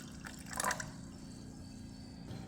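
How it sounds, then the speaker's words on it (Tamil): Tender coconut water is poured into a sugared summer drink, a brief close splash and trickle followed by a soft steady liquid sound, with no talking. "இப்போ இது கூட நம்ம வெட்டி வச்சுருக்கக்கூடிய இளநீ தண்ணீரும் சேர்த்துடலாம்"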